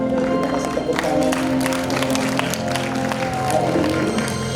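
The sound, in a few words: applause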